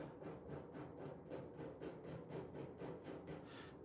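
A metal file rasps over the setting around a hard garnet, removing burrs in a quick steady series of short strokes, close, soft and rhythmic, with no talk.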